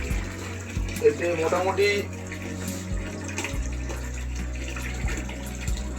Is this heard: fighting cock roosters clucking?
no